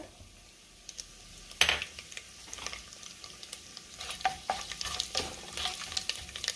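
Whole spices drop into hot ghee and oil for masale bhat, starting quiet then a sharp clatter as they hit, followed by a rising crackling sizzle with light stirring clicks close by.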